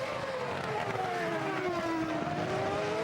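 A Formula One car at the 2006 Montreal Grand Prix sends out a high-pitched engine whine that holds steady and then shifts in pitch as the revs change, over broad track noise, with no voices.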